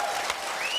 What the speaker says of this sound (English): Give a round of applause to our partners in 2007, everybody.